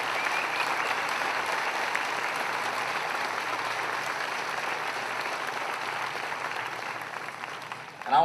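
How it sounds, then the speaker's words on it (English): Applause from guests at an evening speech honoring family members, a sustained even roar of many hands clapping that tapers slightly near the end before a louder bump, no talking over it. "please give them a round of applause"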